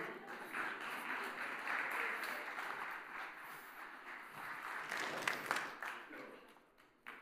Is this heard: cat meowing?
no